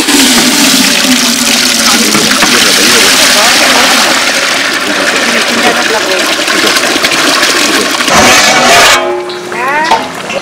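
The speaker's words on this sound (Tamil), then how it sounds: "பாயசத்துக்கு தண்ணி ஊற்றிக்கிறோம்" Water pours in a steady, loud rushing stream into a large pot for payasam, cooked in bulk for a village wedding feast in Tamil Nadu. The stream runs close and continuous, then breaks off near the end into brief clattering.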